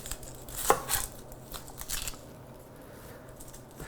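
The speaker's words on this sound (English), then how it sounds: "So we're going to have some diced onion." Diced onion being chopped on a board with a knife, a few quick crisp cuts early on, then fading to quiet kitchen background.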